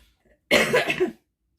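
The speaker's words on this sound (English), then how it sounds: "so forgive me for that cough." One sharp, loud cough up close, with quiet on either side of it.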